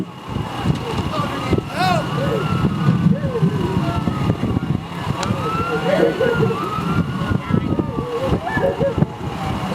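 A wailing ambulance siren rises and falls in the distance over a busy, rumbling background with voices and traffic noise at a high school crash reenactment.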